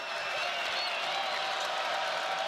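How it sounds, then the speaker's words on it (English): Crowd at a Florida Gulf Coast vs. TCU men's college basketball game, a broad sustained roar of cheering and clapping filling the arena evenly and loudly throughout, with no commentary heard over it. "Crowd finally getting into this game"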